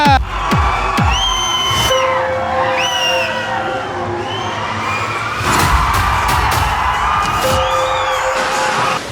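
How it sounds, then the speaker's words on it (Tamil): A large crowd at a fan festival greets a film team with loud, continuous cheering, whistles and rising whoops, punctuated by sharp bangs and bursts of noise, dense and close throughout. "ஒரு மிகப்பெரிய ஒரு கைத்தட்டலை கொடுத்து லெட்ஸ் வெல்கம்"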